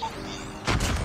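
A grenade goes off in the video game Call of Duty Mobile, a sudden muffled boom arriving late after quieter game ambience, short and fairly close.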